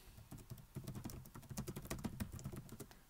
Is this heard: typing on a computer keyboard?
yes